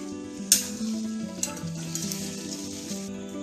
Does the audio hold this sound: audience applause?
no